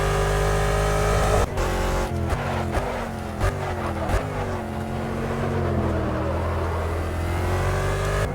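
A BMW Z4 GT3 race car engine revs loud and steady in an online racing video game, with sharp gear-shift dips and rising pitch as it pulls through corners, continuous throughout.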